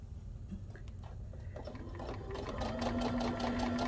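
A modern zig-zag sewing machine re-sews a seam. Its quiet mechanical whir builds into a steady, rapid stitching rhythm over a few seconds, close by and heard alone.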